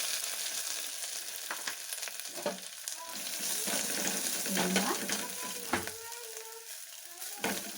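Crushed ingredients for pepper rasam fry in a pan over low heat, a continuous soft sizzle broken by occasional scraping stirs and clinks of the spoon.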